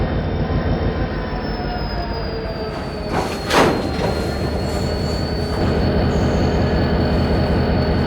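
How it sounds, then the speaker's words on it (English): A freight train hauling iron ore hoppers rolls loudly up to a dock, its heavy wheels clacking rhythmically under a sustained high metallic squeal, with a brief hiss burst partway through. "Sean, go ahead to the front of the train so I know when to cut the throttle on the dock."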